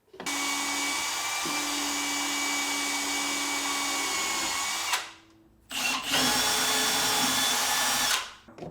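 Power drill driving screws to attach drawer handles, two long sustained whirring runs with a brief pause between, loud and close.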